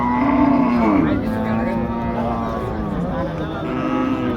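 A large cow at a crowded Eid cattle market lets out a long, loud, close moo that stretches over several seconds, deep and drawn out, with faint background noise around it.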